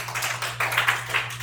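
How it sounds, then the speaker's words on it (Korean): Students in a lecture audience clap together for a classmate, a short patter of hand claps over a steady low hum, fairly close and moderately loud. "박수 한번 쳐줍시다."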